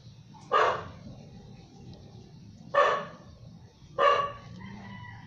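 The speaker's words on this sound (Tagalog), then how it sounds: "Ingay ng aso." Three loud dog barks spaced a second or two apart, carrying over a low steady background hum.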